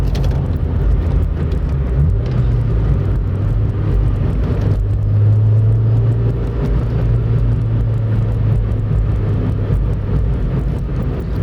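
A 2000 Honda Civic Si EM1, Canadian-spec SiR with about 160 horsepower, driving, its engine droning loudly and steadily inside the cabin with rising pitch as it revs, over constant road rumble.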